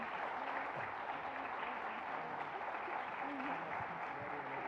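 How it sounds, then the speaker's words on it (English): A group of students at a university fellowship competition is applauded by the audience: soft, steady clapping from a crowd, heard from a distance, with some faint voices underneath throughout. "can we please give this fantastic group of students a round of applause?"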